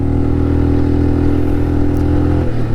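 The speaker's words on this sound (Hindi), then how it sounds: "देखो सेकंड गियर में बाइक है, अब स्पीड कम होती जाएगी, गियर शिफ्ट करना पड़ेगा।" Rented motorcycle labouring up high mountain hairpin loops on the road to Umling La in low gear, a loud, close, steady engine drone with clattering mechanical texture that dips and shifts near the end.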